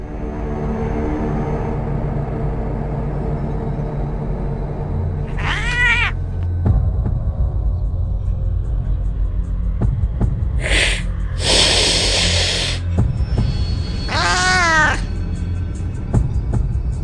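A cat gives several drawn-out meows and a caterwauling yowl at intervals, loud and close, over a steady background hum with occasional knocks and clatter.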